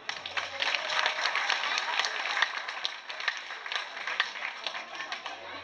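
Sustained applause from an audience at a village heritage day in Golzow, steady dense clapping running evenly throughout without pauses.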